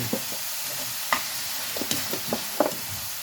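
Lumpiang Shanghai, Filipino spring rolls, fry with a quiet sizzle while being stirred and turned, scattered scraping taps from a utensil punctuating the soft background crackle, with no voices.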